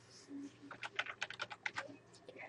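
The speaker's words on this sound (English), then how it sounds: "go down to the next row here and type in" Quick keystrokes on a computer keyboard while entering data into an Excel spreadsheet: a short, faint burst of clustered taps that fades out.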